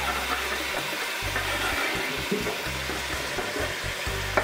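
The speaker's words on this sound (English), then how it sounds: "Then we're going to add our onions and our peppers." Onions and peppers sizzle steadily in a hot pan for stuffed pepper soup, a close, continuous frying hiss with light stirring scrapes and a low intermittent hum in the background.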